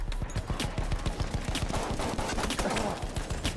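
Rapid gunfire in the Battlefield 1 video game, with dense repeated shots crackling in quick succession throughout and loud battle noise all around.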